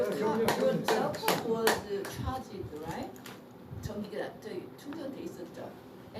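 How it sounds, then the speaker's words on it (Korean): Brief applause of encouragement from a small group: a burst of sharp, close hand claps that thins out quickly, with people talking over and after it. "격려의 박수"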